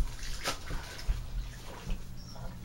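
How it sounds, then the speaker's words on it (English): Water drains steadily from a tub after hand-washing a pair of pants, a continuous low gurgle with faint splashes and drips, close and moderately quiet. "I'm going to drain the water,"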